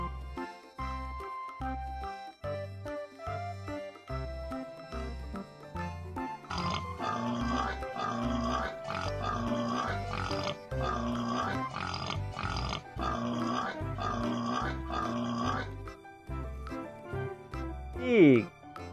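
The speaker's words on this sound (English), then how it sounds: "Pig." Bouncy children's animal-rhyme music with a thumping beat plays throughout, then a short, loud pig grunt breaks in near the end.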